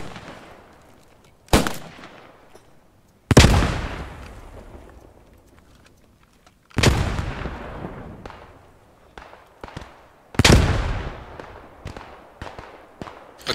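Grenade explosions and gunfire in the Post Scriptum World War II shooter game: four heavy, booming blasts spaced a few seconds apart, each trailing off with a rumbling decay, with scattered sharp shots in between.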